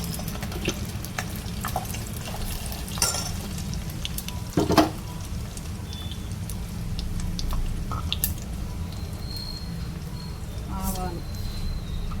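Cumin and other tempering spices fry in oil for an ivy gourd chutney, a continuous crackling sizzle with occasional small clinks and pops over the steady hiss.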